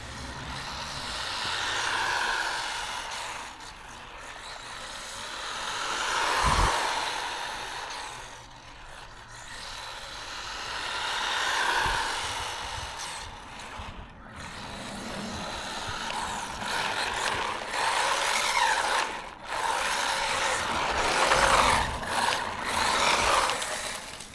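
An Arrma Mojave Grom RC car with a Hobbywing motor runs at full throttle on grass, its whining motor rising and falling in repeated passes, loud when near and fading as it moves away, with no talk.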